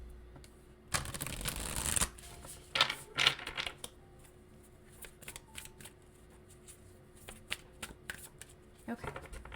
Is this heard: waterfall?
no